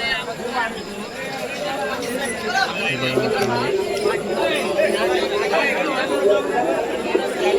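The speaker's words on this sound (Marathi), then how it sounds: "ही गर्दी आहे रात्री दोन ते तीन दरम्यानची रात्री एक दोन तीन दरम्यानची गर्दी" A large crowd of devotees gathers at night at Pinakeshwar Mahadev temple, a continuous babble of many voices and footsteps close by, with someone talking over the hubbub.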